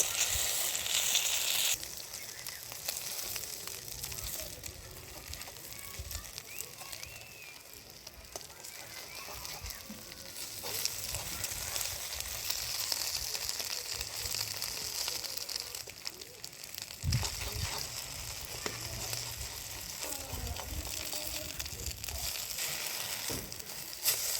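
An egg omelette fries over low heat with a steady, close sizzle and crackle that runs throughout, with a few faint clinks along the way.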